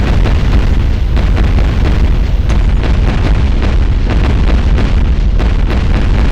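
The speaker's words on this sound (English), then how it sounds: "So we should be able to call in an orbital strike." Archimedes II orbital strike in Fallout 4 fills the space with continuous heavy, rumbling explosions, loud and dense, a sustained roar of overlapping blasts with no clear gaps.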